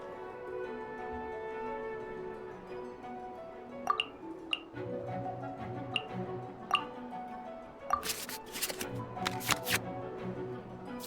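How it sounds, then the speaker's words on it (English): Digital cards are shuffled back into the draw pile in the Genshin Impact card game, a series of soft crisp flicks and ticks followed by a quick riffling burst, heard over a steady background music bed. "we can select any number of cards in our hand to shuffle back into the draw pile, and then draw the same number of new cards"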